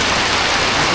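Heavy rain pours down in a dense, loud, unbroken hiss during a flood in the Philippines, with no voices over it.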